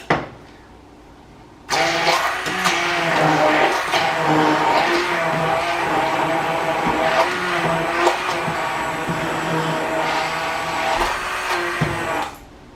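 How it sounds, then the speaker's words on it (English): An immersion blender whirs through aloe gel mixed with alcohol, starting abruptly after a brief quiet moment and then running steadily and loudly for about ten seconds, its pitch wavering slightly as it churns the thick mixture, before cutting off. "I find this is easiest to do with an immersion blender."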